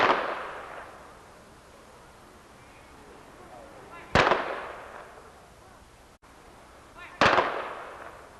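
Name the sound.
rifle volley salute by American Legion firing squad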